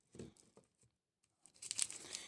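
A plastic instant noodle package is torn and crinkled open up close, with short rips and rustling crackles in quick bursts.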